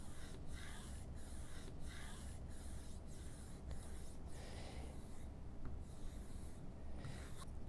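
Smooth wrench repeatedly rubbed back and forth along a part's edge, a steady series of soft, evenly spaced scraping strokes, close by with constant background hiss and no talk.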